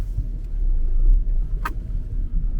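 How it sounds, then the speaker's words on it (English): A Vauxhall Agila drives up a track after a front strut replacement, its engine a steady low rumble heard from close by, with one brief sharp click partway through and no talking. "we shall take it for a run up the track"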